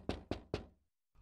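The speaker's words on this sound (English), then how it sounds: "suddenly there came a tapping, as of someone gently rapping at my chamber door" Three gentle, evenly spaced knocks on a chamber door, close and distinct, followed by silence and then a faint rustle.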